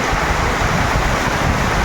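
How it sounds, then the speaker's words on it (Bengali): A heavy rain and wind storm, a loud, dense, unbroken roar of gusting wind and pouring rain filling the whole moment, with no voices audible. "কমছে হাওয়া, কিন্তু বৃষ্টি আছে এখনো।"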